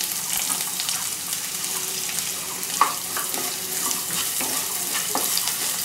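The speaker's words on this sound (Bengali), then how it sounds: "পেঁয়াজগুলো একটু লাল হওয়া পর্যন্ত আমরা এটাকে ভাজবো" Chopped onions frying in oil with spices for an egg curry with chhena: a steady, bright sizzle and crackle close by, with faint stirring clicks and one sharp tap near the middle.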